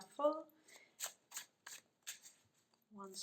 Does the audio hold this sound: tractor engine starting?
no